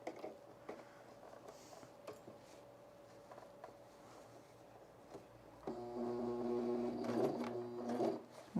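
A freshly threaded sewing machine runs in a short burst of stitching near the end, a quick mechanical whirring with rapid clicks, after quieter ticks and handling noises in a calm room with no talking.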